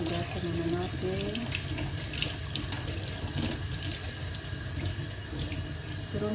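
Tap water runs steadily into a sink as malunggay leaves are rinsed under it, a continuous splashing wash with faint clatter throughout.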